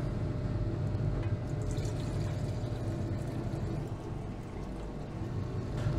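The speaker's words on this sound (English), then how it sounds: "Now what we'll do is add the gold solution to a clean beaker here." Gold solution being poured into a clean glass beaker in a metal-refining setup, a steady close liquid rush lasting several seconds with no talking.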